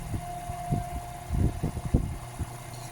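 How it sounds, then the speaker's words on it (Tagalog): A Hanabishi electric wall fan motor, noisy when starting, hums steadily with a thin whine, joined by intermittent low thumps and rattles. "Yung tunog ng kanyang motor pinong-pino."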